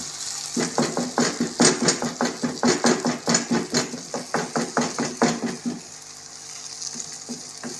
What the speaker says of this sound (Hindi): अच्छी तरीके से इसको भून लेंगे।